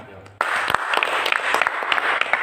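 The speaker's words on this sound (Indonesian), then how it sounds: "Berarti boleh tepuk tangan kami." Audience applause breaks out suddenly after a short pause and continues as steady, fairly close clapping from a room full of people.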